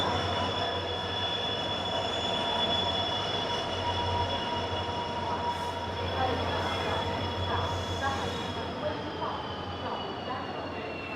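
A passenger train of sleeper and general coaches hauled by a WDP 4D locomotive rolls into a station at night, wheels squealing in long, high screeches over a low rumble, while people talk faintly in the background.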